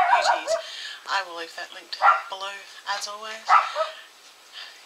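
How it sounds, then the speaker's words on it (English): A pet dog gives short yips and barks in a room, intermittent and mixed in under someone talking. "Excuse my dog."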